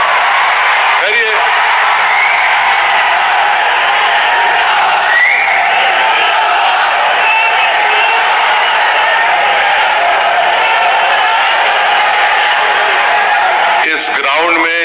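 A large protest crowd at a mass meeting in Darussalam, Hyderabad, roars and chants continuously at close range, a dense wall of voices that holds steady throughout with a few sharper shouts near the end.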